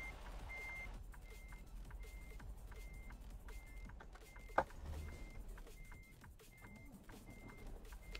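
A gravel-delivery truck backing in on a street, its reversing alarm beeping steadily in a regular rhythm over a low idling engine rumble, with one sharp clunk midway.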